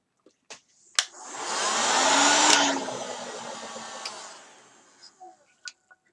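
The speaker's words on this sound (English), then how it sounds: "And back to the heat gun." A heat gun blows hot air across a painting, a steady loud broadband roar that swells for several seconds, peaks, then tapers off, with a few clicks and knocks around it.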